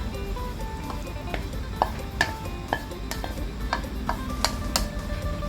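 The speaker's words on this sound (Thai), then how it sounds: "แล้วเราก็ผัดไป ผัดให้วุ้นเส้นสุกเลยนะคะ" Glass noodles and napa cabbage stir-fried in a pan, with a soft background sizzle punctuated by repeated sharp spatula scrapes and clinks against the metal.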